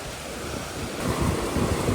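Rough, churning sea surf breaks at a shoreline where fishermen cast nets, a continuous broadband wash that swells louder in the second half, with some wind buffeting the microphone and no voices.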